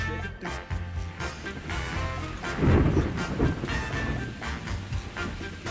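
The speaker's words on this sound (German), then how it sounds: "Das Gewitter ist hier, Chat." A thunderstorm sound effect on a live stream: rumbling thunder swells to a heavy roll midway, over steady rain hiss and wind noise. Continuous and fairly loud.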